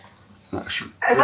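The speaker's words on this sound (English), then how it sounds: "There's my dog." A dog barks twice in short, sharp yips close by, heard alone over a quiet background.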